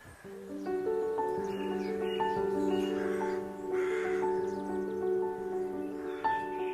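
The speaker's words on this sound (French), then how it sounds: "Comme chaque année, la nature se réveille. Les arbres sont en fleurs, les oiseaux chantent à nouveau." Crows caw repeatedly in springtime countryside with trees in blossom. The harsh calls sound fairly close and loud over a steady, sustained tonal background.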